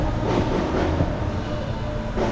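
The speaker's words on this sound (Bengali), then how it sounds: "এই যে ট্রেনগুলো যায় এইদিকে, এই যে ট্রেনের রোড" A train rolling along an elevated track in Kuala Lumpur at night, heard as a continuous loud rumble and rattle of wheels and cars, with no voices.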